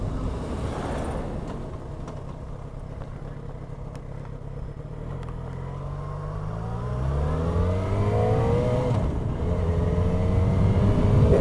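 A Gray Viper motorcycle engine runs steadily close by after its idle speed was adjusted. A low, continuous drone rises in pitch and grows louder in the last few seconds as the revs climb.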